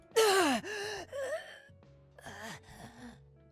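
A strained, drawn-out gasping death moan from a League of Legends character, followed by weaker wheezing breaths and a second shorter gasp, loud and close with no talking.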